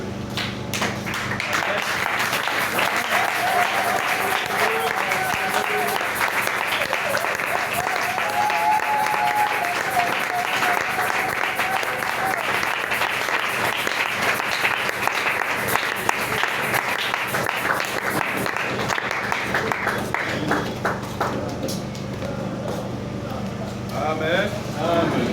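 A worship-service congregation gives sustained applause and acclamations, a thick, continuous roar of many hands clapping with voices and cheers underneath, holding steady for most of the stretch before easing off toward the close.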